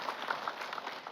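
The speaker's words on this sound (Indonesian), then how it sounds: "Tepuk tangan dulu dong." An audience at a televised religious sermon breaks into applause, a brief, steady patter of many hands, moderately loud and lasting about a second.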